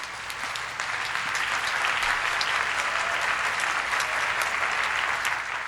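Dense, sustained congregation applause in a church, loud and even clapping from a large crowd that holds steady from start to finish with no speech over it.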